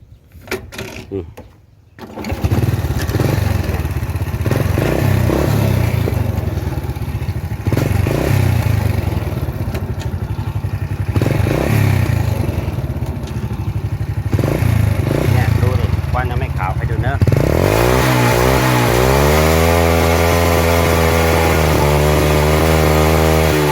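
Motorcycle engine idling and revving during a carburetor check, a loud, close, continuous buzzing drone with rattly clatter, rising into a revving pitch sweep near the end, with voices talking over it.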